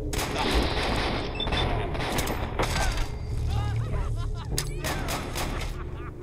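Heavy rapid gunfire from a large weapon in Fallout 4 rattles in dense bursts across the whole stretch, loud and continuous, mixed with other battle noise and some voice.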